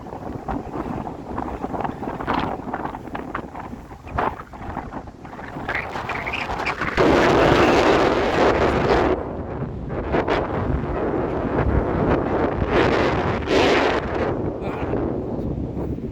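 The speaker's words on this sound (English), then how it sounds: "It's windy, my hat doesn't want to stay on." Strong, blustery wind at a beach buffeting the microphone in a continuous roar that swells and gusts louder midway, with no voices.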